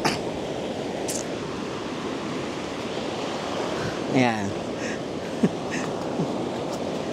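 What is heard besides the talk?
strong ocean waves at the beach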